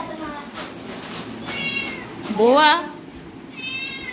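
A cat at night gives several clear rising and falling meows, one louder and longer than the rest, close by, while a person talks over and between them.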